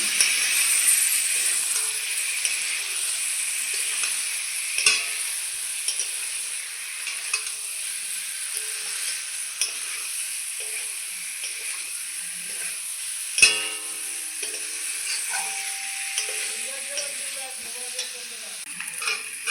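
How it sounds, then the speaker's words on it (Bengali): Boiled potatoes are sautéed with masala in a pan, giving a continuous soft sizzle and frying hiss. A spatula stirs and scrapes now and then, with one sharp knock midway. "মশলার সঙ্গে ভালো করে আলুগুলো কষিয়ে নেব"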